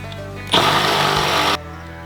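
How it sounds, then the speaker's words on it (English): A power drill bores out a hole in a Jeep Cherokee XJ long-arm suspension part, giving a single close whining burst of about one second between quieter shop background. "I'm gonna drill this out with my handy dandy safety glasses on"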